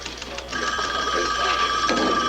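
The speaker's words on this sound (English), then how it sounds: "Will somebody get that phone?" A telephone rings in a police squad room, a steady electronic trill repeating across the moment, moderately loud and set against background room noise.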